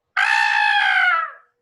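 A voice imitates a scream while reading a story aloud: one sustained, high shriek lasting about a second, loud and close, tapering off at the end, with no other sound.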